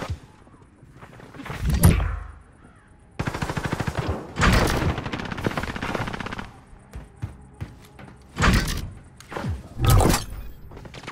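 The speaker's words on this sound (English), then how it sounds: "I'm taking fire." Bursts of automatic gunfire from the video game Call of Duty: Modern Warfare, several loud volleys separated by brief pauses, with one sustained rattling stretch in the middle and thuds between.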